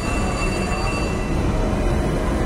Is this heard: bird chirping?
no